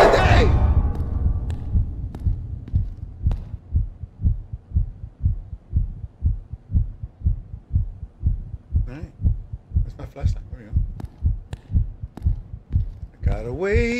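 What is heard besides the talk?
heartbeat in the horror video game Night People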